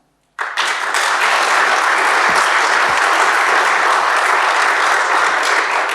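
Warm audience applause in a university seminar hall welcoming a teacher-education professor as moderator, bursting in abruptly after a moment of silence and holding as a dense, even roar of clapping to the end.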